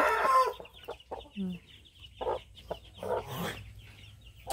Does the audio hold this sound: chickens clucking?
yes